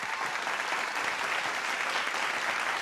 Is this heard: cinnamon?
no